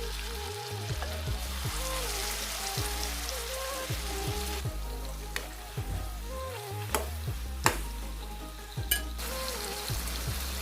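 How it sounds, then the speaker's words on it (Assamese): Marinated chicken pieces frying in a spoonful of butter, a steady close sizzle and crackle like rain on a surface, with a few sharp pops and faint stirring, no talk. "চিকেনখিনি ফ্ৰাই কৰিবলৈ মই ইয়াত এচামুচ বাটাৰ দিছোঁ।"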